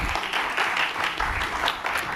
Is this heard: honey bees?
no